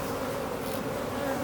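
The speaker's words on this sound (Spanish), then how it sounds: "Está la abeja." A bee buzzing steadily and close at a hive being assembled, a continuous droning hum with no pauses.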